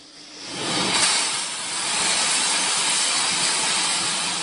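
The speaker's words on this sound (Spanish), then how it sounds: "su sonido llena el Museo de Motores Antiguos en Vista, California, cerca de San Diego, donde hay docenas de máquinas funcionando" Dozens of antique engines run together inside an engine museum in Vista, California, near San Diego, making a loud, steady, hissing roar that swells early and then holds evenly throughout.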